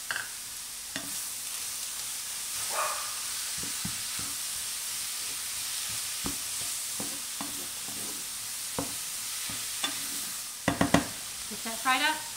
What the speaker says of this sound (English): Get that fried up so it's no longer pink, and keep this boiling for a few more minutes.